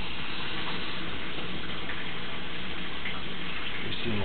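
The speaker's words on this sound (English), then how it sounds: "you're seeing the water leaking out of here" Water leaking from a pipe joint seeps into the ground as a steady, dense hiss and trickle, continuous throughout with faint ticking drips, close and fairly loud.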